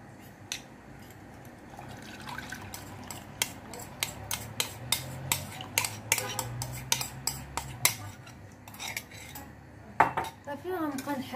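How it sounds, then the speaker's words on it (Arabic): A cornstarch and milk mixture stirred in a pot, a spoon clinking and scraping steadily against the metal with irregular taps, close and fairly quiet, with a low hum underneath. "غنبقى نحرك فيه حتى نحصل على كريمة عاقدة"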